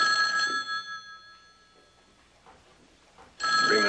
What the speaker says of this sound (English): Now, Mr. Bentley, when the call comes, please use this phone over here